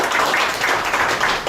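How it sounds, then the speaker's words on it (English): A press conference audience claps, producing a dense, fairly loud wash of hand claps lasting under two seconds, with no distinct voices. "let's give a hand"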